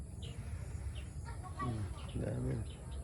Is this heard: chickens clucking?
yes